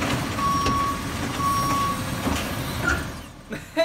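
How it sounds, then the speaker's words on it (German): An animated garbage truck reverses with two evenly spaced, steady electronic beeps over a continuous low engine rumble, followed by a few faint clanks near the end. "Ist das ein Müllauto?"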